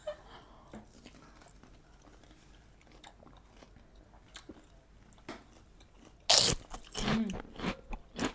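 Crunchy food bitten and chewed during a mother-versus-daughter eating challenge: quiet background with scattered small clicks, then a loud sudden crunch followed by several close, sharp chewing crunches toward the end.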